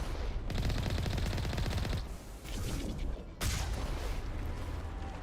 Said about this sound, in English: How are you already shooting at me?